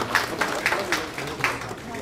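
Applause at a policy advisor appointment ceremony for a political party event in Daejeon: scattered hand clapping in loose bursts from a modest audience, fairly close, with some talk underneath.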